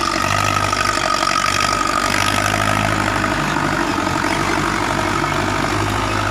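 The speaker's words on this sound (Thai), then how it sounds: "วันนี้ผมจะพามาดูรถไถฟอร์ด6 6 0นะครับ" A Ford 6600 farm tractor with a newly replaced clutch plate runs in a rice field, its diesel engine chugging in a steady, close, loud idle-like rumble throughout, with no talking.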